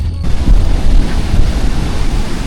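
Strong sea waves surge and crash close by in a loud, continuous roar, buffeted by wind against the microphone.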